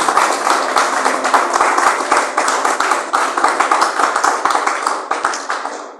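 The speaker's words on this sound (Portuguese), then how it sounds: "Palmas para Jesus, irmãos" A church congregation claps in praise during a worship service, loud close rhythmic handclaps in unison with a faint voice or two underneath, the clapping stopping abruptly at the end.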